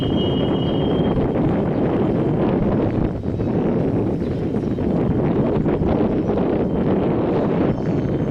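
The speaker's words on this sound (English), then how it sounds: "it was extremely windy" Strong gusts buffet a microphone outdoors at a large rail yard, a loud continuous low roar that swells and dips, with a brief high tone early on.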